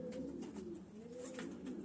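Racing pigeons in a loft at season's end coo in low, rolling, overlapping calls, steady and close throughout, with no talk.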